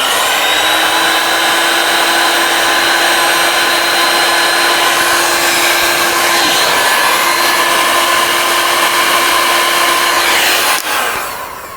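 A heat gun blows hard and steadily at close range while shrinking heat shrink tubing on motorcycle wiring, a loud, even whine with a fan roar that cuts off near the end, with no talking.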